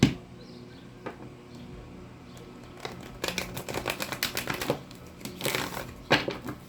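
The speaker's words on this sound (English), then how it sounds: "Let me get you some good shuffles in" A Hoodoo Tarot deck is shuffled by hand: quiet at first, then bursts of rapid riffling and flicking cards, close and crisp, with no talking.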